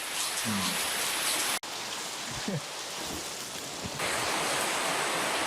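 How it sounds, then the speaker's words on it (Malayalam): Steady rain hisses down without pause, a dense wash of falling drops that fills the clip from start to end. "മഴ നിൽക്കും തോന്നില്ലല്ലോ"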